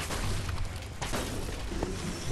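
Blasts go off during a tower battle in the Minecraft Dungeons video game. Dense, rumbling booms pile up continuously, with a sharper burst in the middle of the busy game noise.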